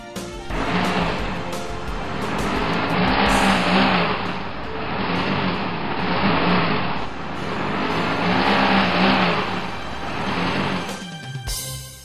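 A car engine revs hard in waves while the wheels spin in deep snow, loud and close, the pitch swelling and falling repeatedly without any talk.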